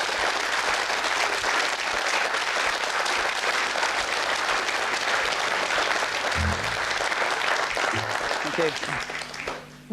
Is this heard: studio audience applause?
yes